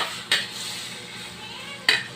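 Garlic and onion sauté in a pan for spaghetti, giving a soft steady sizzle with two sharp utensil scrapes against the pan, one near the start and one near the end.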